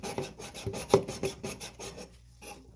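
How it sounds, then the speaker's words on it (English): Grit cloth rasping back and forth over a copper supply pipe while preparing to fit a new angle stop, a close rhythmic scrubbing of about a dozen quick strokes that stops near the end. "taking our grit cloth, we're going to clean this up"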